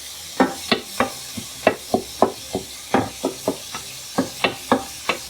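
Sharp metallic scrapes and chops of a bench scraper chopping burgers on a sizzling griddle in a quick, irregular rhythm, about twenty strikes over a steady frying hiss.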